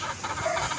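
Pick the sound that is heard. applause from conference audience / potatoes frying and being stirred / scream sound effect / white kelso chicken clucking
white kelso chicken clucking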